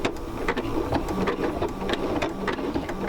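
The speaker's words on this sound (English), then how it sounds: "This will set the machine back so that it will start the stitch at the beginning of the pattern sequence" A sewing machine stitching a blanket stitch on quilt binding, a fast, steady mechanical chatter of repeated needle strokes, close and continuous with no talk.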